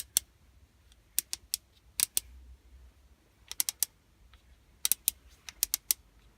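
A Ryobi RJS850 600W jigsaw's orbital action selector is clicked through its settings, giving sharp, dry clicks in small irregular clusters, close and quiet, with no talking.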